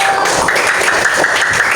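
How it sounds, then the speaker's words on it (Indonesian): Steady, dense applause from a crowd in an elementary school classroom fills the space, continuous and fairly loud throughout, without any clear talking over it. "Oke, tepuk tangan dulu untuk sang tamu."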